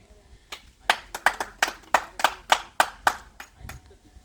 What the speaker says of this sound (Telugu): దీనికి మా ప్రభాకర్ తరపున మీరంతా క్లాప్స్ కొట్టాలి